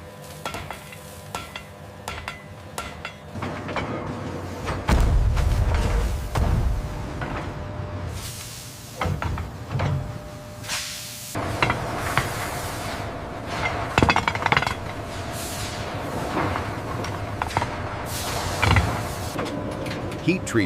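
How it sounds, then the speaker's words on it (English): A forging hammer strikes hot steel in a forging factory, metallic blows ringing out intermittently over a steady workshop background, some heavier than others, with scraping and clinking between them. "Each forging requires multiple strikes from different angles."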